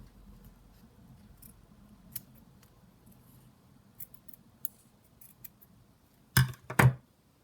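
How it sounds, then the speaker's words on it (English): Scissors snip a small paper bow for a junk journal: a couple of faint clicks early on, then two loud, close crunchy cuts near the end in a quiet room. "let's just cut this little bow"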